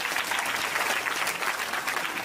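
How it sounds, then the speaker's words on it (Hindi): Audience applause fills the whole stretch, dense and steady, a crowd clapping together at a religious discourse gathering, with no voices standing out above it. "ताली बजा कर धन्यवाद दो"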